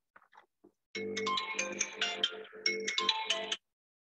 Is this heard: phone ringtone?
yes